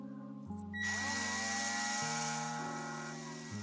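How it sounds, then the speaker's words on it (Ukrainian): An electric drill bores a hole for a self-tapping screw while day-night roller blinds are mounted, the motor whirring up to a steady high whine with shifting pitch for a few seconds, close and alone. "зараз будемо сверлити на саморіз"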